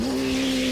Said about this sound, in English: Nitro Rider takes off, drives over Saber.